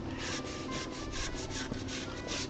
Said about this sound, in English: okay, but sanding this all real easy.